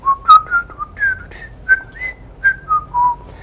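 Someone whistles a tune as a bright, clear solo melody. Short phrases of rising and falling notes run close and alone, with nothing else behind them.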